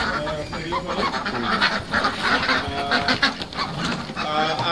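Ducks and geese at a farm compound in Assam, alongside local chickens and pigeons, honk and quack loudly and close by in an overlapping, busy chorus, with someone talking over the birds.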